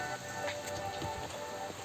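Heavy rain falls outdoors as a steady, fairly quiet patter and hiss of drops hitting surfaces, with no voices.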